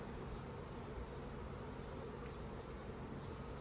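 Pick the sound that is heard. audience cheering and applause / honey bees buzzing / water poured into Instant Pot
honey bees buzzing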